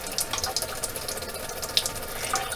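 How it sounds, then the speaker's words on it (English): An RV faucet running with water surging from the pump, a steady hissing splash with small pulsing swells, close and alone without talk. "you should be able to hear the pump in the background, and you see the surging of the water"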